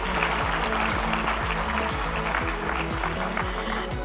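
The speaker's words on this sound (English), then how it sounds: "Round of applause." An audience at an investment conference session claps in acknowledgement of a pledge. The applause holds steady under a repeating low pulsing tone that is probably background music.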